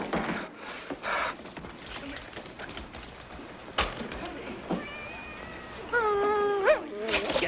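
A cat gives a few short, rising meows near the end over a faint, noisy room background, preceded by scattered soft knocks and rustles.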